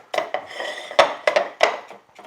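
Coarse cracked pepper is pressed and rubbed onto a ribeye steak in a bowl, giving a series of close scraping, gritty crunches with irregular pauses between them.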